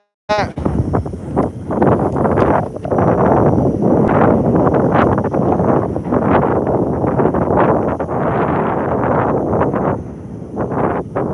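Strong wind roars against the microphone in constant buffeting gusts, with a faint sustained horn-like tone humming above the rush.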